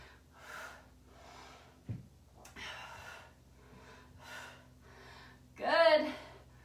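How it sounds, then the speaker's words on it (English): Audible breaths during a barre and Pilates exercise, several soft exhales and inhales in an uneven rhythm, close to the microphone, ending in a louder, voiced breath out. "Breathe it out."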